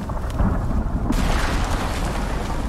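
Thunder from a storm in the survival game Icarus: a continuous deep rumbling roar that stays loud across the whole span, with no talk over it.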